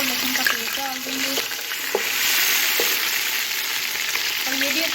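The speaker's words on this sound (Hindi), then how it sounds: "अब हम इसमें अदरक और लहसुन का पेस्ट डाल देंगे" Ginger garlic paste dropped into very hot oil with fried onions, sizzling loudly and steadily close up, with occasional stirring and scraping of the pan.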